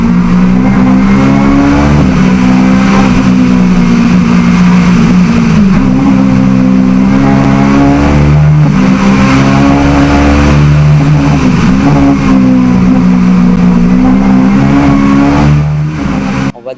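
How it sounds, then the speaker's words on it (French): A Peugeot 306 rally competition car accelerating hard, its engine climbing through revs in repeated pulls with gear changes, loud and close for the full duration, without speech. "la 306 est certainement le véhicule de compétition le plus performant jamais construit"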